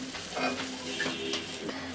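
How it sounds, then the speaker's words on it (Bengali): A thin paratha fries in a little oil on a pan, giving a steady close sizzle with soft scraping and stirring sounds throughout. "একেবারে পাতলা পরাটা, হালকা তেলে।"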